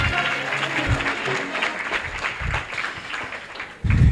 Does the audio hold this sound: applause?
yes